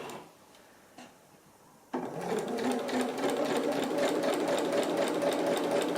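A sewing machine stitching the centre front seam of a Tilly and the Buttons Joni dress starts after a couple of faint clicks and then runs at steady speed, a close, even mechanical whir.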